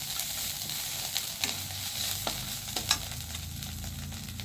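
Spices frying in oil in a pan, with a steady close sizzle and a few brief clinks and scrapes of stirring, no voices.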